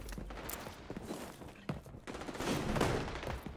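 Gunfire in the online shooter game XDefiant, with rapid bursts of shots and sharp cracks layered over busy game action for a few seconds.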